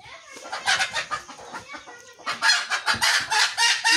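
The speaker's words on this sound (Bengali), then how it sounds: "মুরগি কি হয়েছে?" Chickens cluck in a village farmyard on a foggy morning, a run of short repeated clucks, then louder, quicker bursts near the microphone, with no speech.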